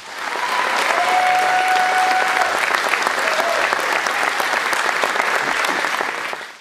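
A concert audience gives a singer a loud, sustained ovation of dense clapping that swells in and holds steady before tapering off, with a faint held tone ringing briefly above it.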